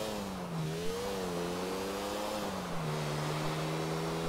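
A Bullet bike motorcycle engine revs in GTA IV, a steady mid-pitched drone that rises and dips in pitch over several seconds, loud and close with no talking.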